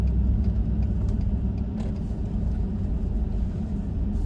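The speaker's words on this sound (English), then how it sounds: "There's a truck coming." A truck passes on a road, a loud low engine rumble and tyre roar that stays close and heavy throughout, easing slightly partway through before swelling again, with no voices.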